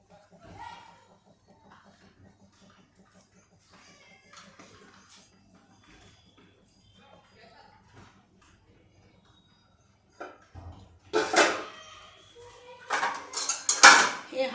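A cooking pot being handled while a wet cloth is laid over it for biryani, with quiet clinks at first, then louder clattering of metal pots, lids and utensils near the end.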